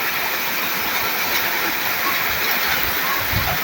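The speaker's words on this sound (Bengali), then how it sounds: "ঝড় বৃষ্টি হচ্ছে" Heavy rain pours down steadily during a June storm, a dense, continuous hiss that fills the whole stretch with no pauses.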